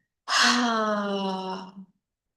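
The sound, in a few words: deep breath exhaled with a ha sound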